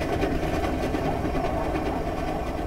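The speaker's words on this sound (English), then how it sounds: "The train will depart when it is completely full." A departing train in the video game Command and Conquer Generals Zero Hour gives off a continuous low mechanical rumble with a faint rhythmic clatter, loud and steady throughout with no talking.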